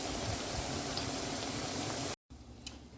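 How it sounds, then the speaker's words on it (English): Plantain slices frying in hot oil in a pot give a steady, dense sizzle and bubbling hiss that runs continuously. A brief cut follows, then a quieter, softer sizzle. "At this point the plantain is almost fried and soaked"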